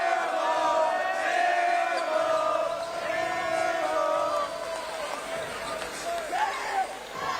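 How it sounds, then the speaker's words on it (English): Crowd noise fills a college basketball gym during a UNF versus New College of Florida game, a steady loud murmur of the packed student section with shouts and sneaker activity throughout. "It's a good crowd out here"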